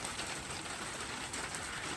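Steady rain falling at night in the countryside, heard outdoors as a continuous close hiss with no voices over it.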